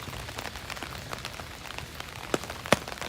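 Rain falls steadily on a street in Kyoto, a dense, close hiss of drops hitting pavement and surfaces, with a couple of sharper individual splats standing out near the end; no voices.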